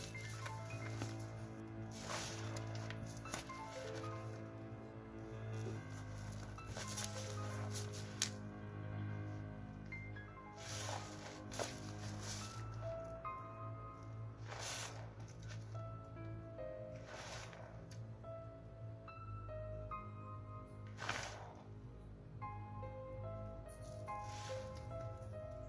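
Thick bubbly blue witch's brew squeezed and clenched by hand, giving soft wet squishing crackles that come in repeated bursts over a steady low hum, close and quiet with no talking.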